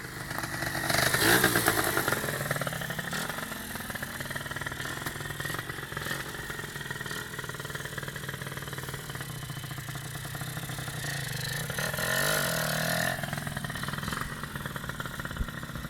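A Honda MTX125 motorcycle engine runs steadily close by, a continuous mid-pitched idle with a slight swell near the start and again later, heard alone.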